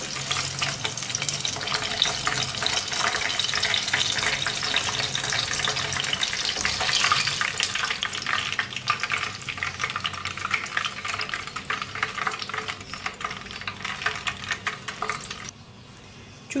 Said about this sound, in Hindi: बस 2-3 मिनट फ्राई करेंगे मिर्चों को।